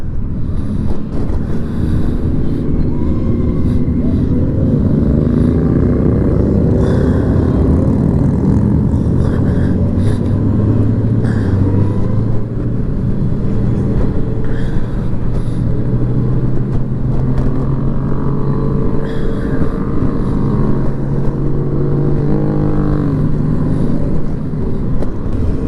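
A large group of motorcycles rides together on a road on a cold 46-degree morning, engine drone steady and loud under heavy rushing wind buffeting the microphone, with shifting engine pitches from nearby bikes.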